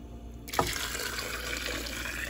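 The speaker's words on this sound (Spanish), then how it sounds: "Meneamos un poco y le volvemos a agregar agua" Water runs steadily into a pot of shrimp broth with vegetables, a continuous broadband splashing that starts abruptly with a brief knock and holds loud and close to the end, with no talking.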